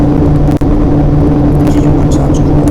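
A GG1 electric locomotive in the Train and Rail Yard Simulator game gives off a loud, steady electric hum and whir with a low tonal drone that holds even throughout.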